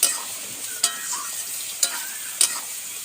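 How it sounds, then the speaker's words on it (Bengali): Pumpkin, pointed gourd and potato curry sizzling in ghee in a pan, a steady frying hiss broken by four sharp spoon scrapes and knocks as it is stirred, close with no talking. "আর একটু ঘি দেবো। দিয়ে একটু একটু নাড়িয়ে দেবো।"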